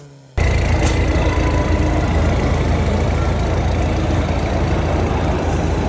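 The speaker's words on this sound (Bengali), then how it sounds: "আর এখানে সুপ্রা ভাই ইঞ্জিন স্টার্ট করেছে এবং রেভ দিচ্ছিল।" A Toyota Supra engine at a Dhaka motor show starts up and holds a loud, steady rumble, a sharp onset after a brief quiet moment followed by continuous heavy engine noise.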